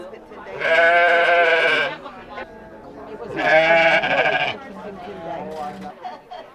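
Two loud, wavering bleats from Jacob sheep and their 40-day-old lambs about two seconds apart, close by at a sheep and fiber festival, with quieter murmuring and background noise in between.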